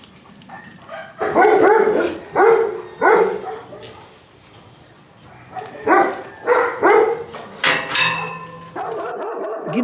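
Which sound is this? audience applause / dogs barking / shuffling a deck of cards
dogs barking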